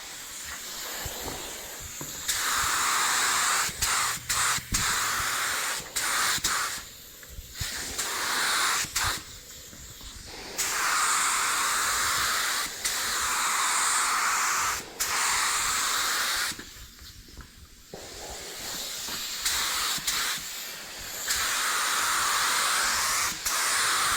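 Flat clear coat is spray-painted onto plate steel and rivets, a loud, steady hiss coming in long bursts of several seconds, separated by short pauses.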